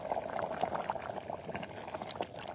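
Food simmers in a clay pot over an outdoor fire, a soft, irregular bubbling that stays faint and close and carries on throughout without talk.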